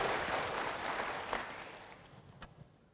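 Congregation in a church clapping together, a dense, fairly loud wash of applause that slowly fades toward the end.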